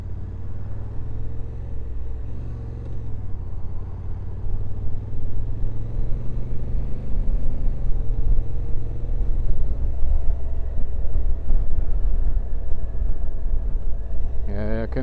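A 2024 Honda Africa Twin motorcycle rumbles steadily while riding, a low continuous engine drone with wind noise swelling midway and a brief louder burst near the end; no clear talk over it.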